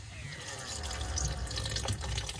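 Transmission fluid from a 2010 Mercedes E350 W212 with a 722.9 gearbox drains slowly from the pan, a close trickling and dripping of liquid that runs continuously for a few seconds with no talk.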